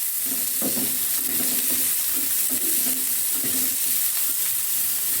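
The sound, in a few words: chopped onions frying in oil in a pan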